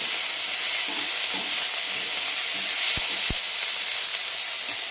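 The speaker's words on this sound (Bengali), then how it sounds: "ক্যাপসিকামটা বেশ ভাজা হয়ে গেছে, অল্প নরম হয়ে গেছে।" Capsicum frying in a pan for chilli mushroom, a steady loud hissing sizzle with two sharp clicks of a utensil near the end, close and without talk.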